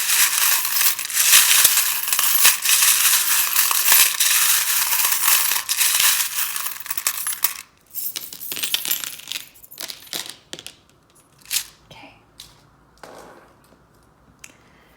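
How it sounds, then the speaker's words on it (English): Tarot cards riffle and shuffle with a dense crisp rustling at first, then break into scattered sharp flicks and taps. "it can be a little bit loud when I shuffle them"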